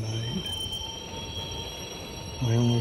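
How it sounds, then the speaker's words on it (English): Railway car wheels squeal on dry metal rails, a loud sustained metallic screech with a steady high whine, swelling to a harsher, louder squeal near the end. "My only friend is the squeak the car makes on it dry."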